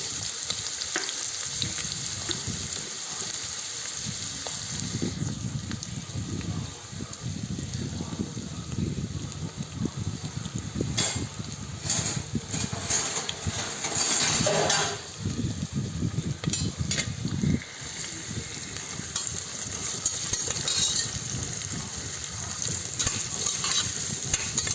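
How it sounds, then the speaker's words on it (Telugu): Sliced onions fry in a pan with cinnamon and cloves for a mutton curry, a continuous close sizzle with occasional stirring scrapes and light watery crackle, no talking. "కొంచెము బ్రౌన్ కలర్లో వచ్చేంత వరకు ఇది ఎర్రగడ్డలు వేయించుకోవాలి"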